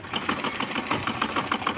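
A sewing machine runs in a steady rapid rhythm, stitching the neck binding of a blouse, close and continuous with no voices.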